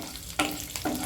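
Curry leaves and garlic cloves dropped into hot oil for a Marathwada-style peanut chutney, giving two sharp bursts of close sizzling and crackling over a steady frying hiss.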